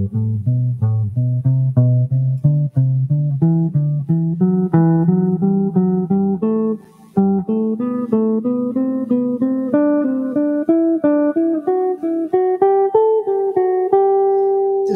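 Guitar runs up a scale in groups of three notes, a steady stream of clean plucked notes climbing in pitch with a brief pause midway, played alone and close.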